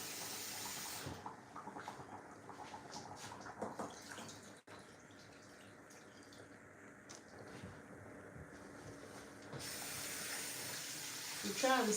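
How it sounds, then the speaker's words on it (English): Water being poured into a pot of peanut soup, a steady hissing rush that runs for several seconds, close and moderately loud, with faint kitchen clatter around it. "And I'm going to come in with water."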